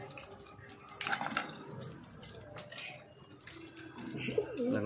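Pigeons peck at soaked raw chickpeas, giving scattered soft clicks and pecking taps with occasional coos and wing flutters, quiet and close, with no talk.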